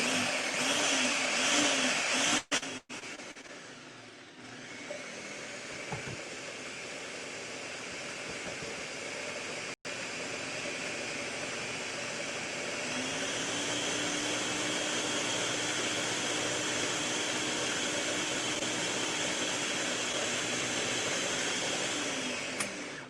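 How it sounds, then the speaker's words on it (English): A blender whirs steadily as it purees flourless pancake batter, a loud continuous motor roar that briefly dips and then settles into an even, sustained drone with no talking. "So everything is now in our blender. And we're ready to blend it up into our pancake batter."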